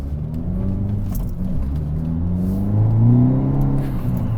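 A 2022 Hyundai Elantra N accelerating, heard from inside the cabin as a steady low engine drone that rises in pitch and swells slightly louder midway through, with no talking.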